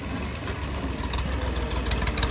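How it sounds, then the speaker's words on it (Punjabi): A tractor engine idles nearby with a steady low, knocking rumble that runs unbroken, loud and alone. "ਹੈ ਟਰੈਕਟਰ ਬੰਦ ਕਰ ਲਾ।"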